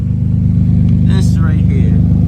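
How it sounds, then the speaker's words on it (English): An Infiniti G35 engine idles steadily with a low, throbbing drone through its new exhaust, which has a wide pipe hanging open, close and continuous, with a person talking over it. "the motor is kind of loud, low key, but I don't think that's really just the motor sound"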